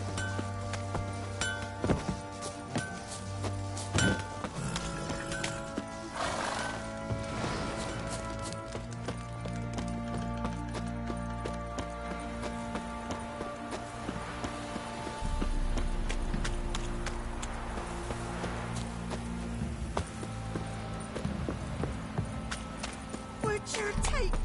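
Horse hooves clip-clopping in The Witcher 3 video game, a steady walking rhythm over a continuous bed of game music and ambience with no clear speech.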